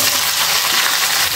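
Mixed vegetables go into a hot pan of spice-fried oil, giving a loud, continuous hissing sizzle close up, with no talk over it.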